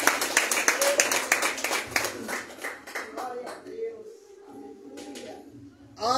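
A church congregation at a worship service claps in a fast, rhythmic burst that thins out and fades over a few seconds. Voices carry on beneath it and continue after the clapping stops.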